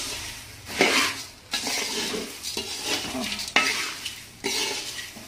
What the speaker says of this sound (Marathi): आणि मस्त असं हलवून घ्यायचं.